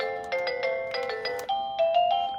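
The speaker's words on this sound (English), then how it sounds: "It plays several different chimes, and you can easily change them" A plug-in doorbell chime plays a short electronic melody of clear, bright tones, several notes stepping in sequence before a sustained final pair, close and alone with no voices.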